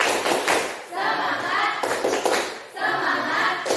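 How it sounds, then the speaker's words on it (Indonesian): A classroom of students doing a rhythmic spirit clap, bursts of group clapping in a patterned beat mixed with chanted voices, rising and falling in about three phrases. "Coba tepuk semangat."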